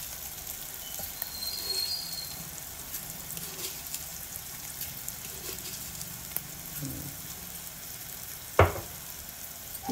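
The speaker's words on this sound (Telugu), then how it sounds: "ఇదిగోండి ఉల్లిపాయలు వేగుతున్నాయి" Onions fry in hot tempering oil with a soft, continuous sizzle and faint crackles, then one sharp clatter near the end; no voices.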